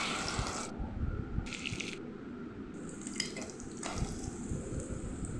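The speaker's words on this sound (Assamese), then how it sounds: "পিঁয়াজখিনি মই ভালদৰে ৰঙচুৱা হোৱালৈ ভাজি থাকিম" Onions with dried red chillies frying in oil in a wok for a pork dish, a steady close sizzle broken by a few louder stirring scrapes and bursts.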